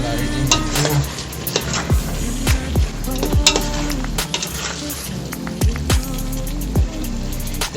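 Pork with tomatoes fries loudly in a pan, with a steady close sizzle and repeated sharp scrapes and clinks of a spatula stirring at an irregular rhythm throughout.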